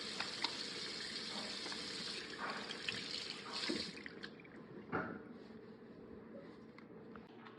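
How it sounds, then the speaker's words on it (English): Hands washed under a running tap at a sink, a steady broadband water stream with small splashes and bursts as hands move through it, fairly close, with no voices. "wash your hands for a full 20 seconds"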